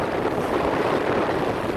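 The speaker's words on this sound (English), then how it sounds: "Got a really nice 15-knot northerly blowing." Steady wind roars over a sailing yacht on open sea off the east coast of Tasmania in a 15-knot northerly, a continuous broadband rush with no voices.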